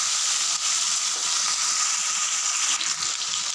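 Eggplant pieces sizzle and fry steadily in a hot pan for vegetable bhaji, a continuous bright crackle with small bursts of spattering, close by and with no voices.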